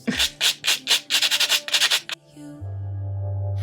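Builder gel nails are buffed smooth with quick, close rubbing strokes in a steady rhythm, about a dozen short scratchy passes, followed by a low electric hum.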